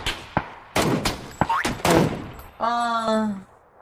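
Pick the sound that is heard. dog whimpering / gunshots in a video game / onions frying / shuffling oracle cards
gunshots in a video game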